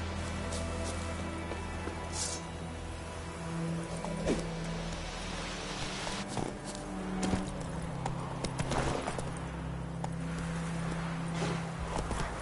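Roach, the horse in The Witcher 3, galloping along: a steady, rapid clip-clop of hooves at moderate loudness over a continuous low rumble of game ambience, with no speech.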